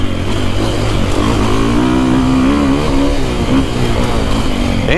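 A Husqvarna FE450 four-stroke dirt bike accelerates, its engine note rising and pulling hard with a steady, loud drone and no talk over it.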